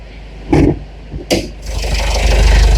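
An Isuzu-type X-Series pickup with a DDI Blue Power diesel engine: two sharp clunks, like a hood or door, then the engine settles into a loud steady idling drone close by.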